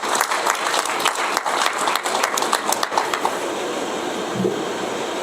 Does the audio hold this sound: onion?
no